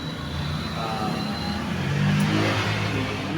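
A service motorcycle engine runs steadily while rolling, a close, continuous mid-pitched drone with a slight rise toward the end and no talk over it.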